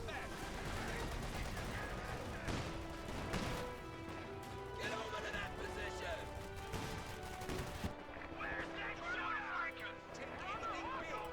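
Tank cannon blasts and rifle and machine-gun fire crackle through a Company of Heroes 2 World War II battle, with repeated sharp bursts and crashes over game music and someone talking throughout.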